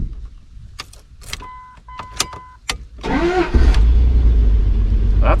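A 2001 Dodge truck starts after repair to its ignition key cylinder. Key clicks and dash chimes lead into the starter cranking, then the engine catches and settles into a loud, steady idle close by. No voices.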